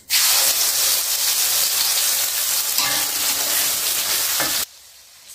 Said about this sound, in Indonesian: Langsung aja kita tumis.